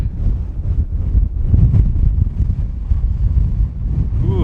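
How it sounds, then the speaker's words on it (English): Strong wind buffets the microphone outdoors at a scenic spot near a glacial terminal moraine in the American West, a loud, steady low rumble that gusts throughout with no pauses. "Ooh, that wind."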